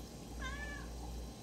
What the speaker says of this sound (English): Thank you for meowing through my whole video.